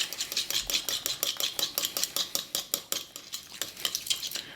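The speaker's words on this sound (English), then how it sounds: "Mix that together. Just makes that egg yolk mixture nice and fluffy." Egg yolk mixture for hummus deviled eggs being whisked in a bowl, a quick, steady run of rhythmic tapping and scraping strokes, close and clear with no talk.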